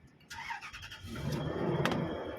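A Toyota Land Cruiser SUV engine cranks briefly on the starter with a short whir and squeal, then catches and settles into a low, steady idle rumble close by.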